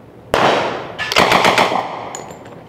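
An M3 Grease Gun submachine gun fires from an open bolt in a few close, loud bursts of rapid shots, with a short gap between bursts and a ringing tail after.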